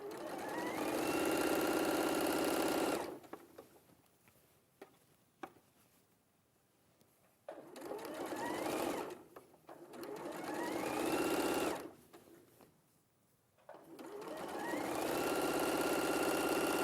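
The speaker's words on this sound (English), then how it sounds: "when you're sewing this seam" Sewing machine stitching a garment seam in a sewing studio, running in steady bursts of a few seconds each with pauses between, a clear mechanical whir that starts and stops several times.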